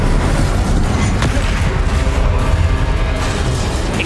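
An Incendio fire spell cast in Hogwarts Legacy gives a dense, continuous roaring whoosh of flame, loud and close, with low rumbling booms throughout.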